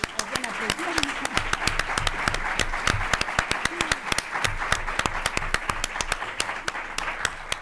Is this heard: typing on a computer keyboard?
no